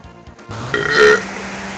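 A single loud, close burp from a character in Chrono Trigger, lasting about a second, with no talk over it.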